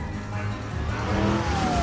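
A car engine runs and accelerates steadily across a short stretch, a rising tone under busy mixed background noise, with the whine climbing near the end and no talk.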